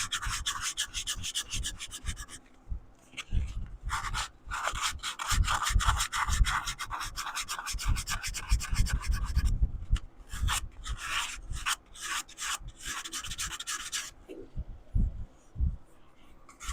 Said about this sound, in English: it's sanding out pretty easily